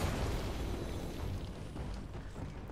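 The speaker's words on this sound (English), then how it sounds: "My mortar is just annihilating myself." Heavy mortar explosions in the video game Helldivers 2 form a loud, continuous rumbling roar that fills the whole moment and slowly eases off without pausing.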